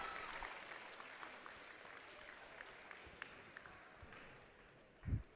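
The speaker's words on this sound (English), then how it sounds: "Let's hear it with a big round of applause for all the teams competing today." Broad, steady applause from a crowd at a FIRST Tech Challenge robotics qualifier during alliance selection, a continuous wash of clapping heard from a distance that holds evenly, with a brief thump near the end.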